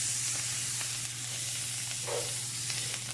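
Thyme and garlic fry in oil in a pan, giving a steady, moderate sizzling hiss with faint stirring ticks and a low background hum.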